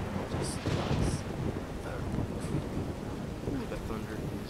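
Thunderstorm in the Skyrim video game near Riften: dense rumbling rain and wind with rolling thunder, a few sharper crackles early on, steady and fairly loud throughout.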